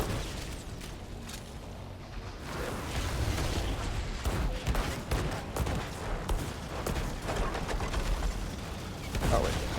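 Scattered gunshots in the Outriders video game, sharp cracks in irregular bursts over a steady background of game ambience.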